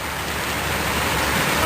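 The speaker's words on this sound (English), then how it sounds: "Uh-oh, it's starting to rain." Rain begins to fall outdoors as a dense, steady hiss of drops, loud and continuous with no voices.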